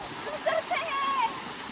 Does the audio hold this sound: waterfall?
yes